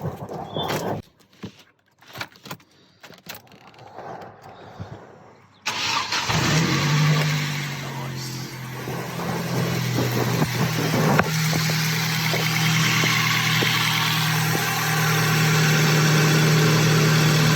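A car engine, up after a cambelt change with the front end off, cranks after some clicks and clunks, catches with a burst, and settles into a steady close idle with a faint rise in revs.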